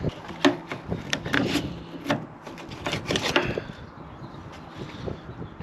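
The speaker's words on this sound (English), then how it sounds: "open the bonnet to get to that." Bonnet of a Range Rover Sport L320 being released and lifted, with several close wooden-sounding clunks and knocks followed by rubbing and scraping.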